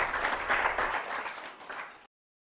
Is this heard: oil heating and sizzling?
no